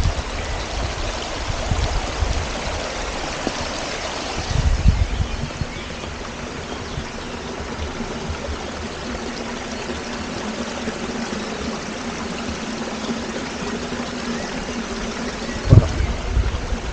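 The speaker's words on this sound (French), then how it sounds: "Donc nous voici aux cascades du bout du monde." Steady broadband rush of falling water at the Cascades du Bout du Monde, a continuous close wash with a couple of brief louder thumps and no talking.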